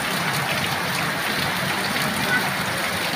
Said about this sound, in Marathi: संध्याकाळच्या वाजल्या 7 आणि हे बघा पाऊस एवढा येतोय ना आमच्या घरी भरपूर